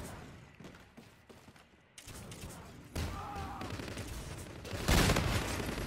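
Gunfire in Call of Duty: Infinite Warfare, bursts of rapid shots in the first two seconds, then denser, louder volleys and a heavy blast near five seconds, with continuous game noise behind.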